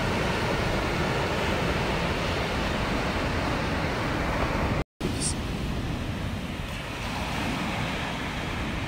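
Ocean surf breaking on an Outer Banks beach at sunrise, heard as a loud, continuous roaring wash of noise with a brief dropout midway, then a slightly softer steady rush.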